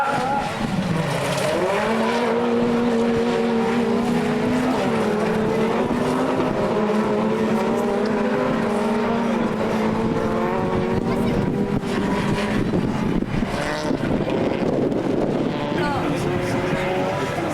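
Peugeot 206 and Honda rallycross cars race at a 2008 French championship round in Lavaré, engines roaring loudly and continuously with rising and falling revs, while a commentator talks over them.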